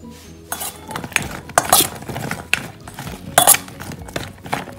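Sliced zucchini tossed with a little chili oil in a bowl, giving a run of loud, close clinks and scrapes of a utensil against the bowl in irregular bursts, with no talk.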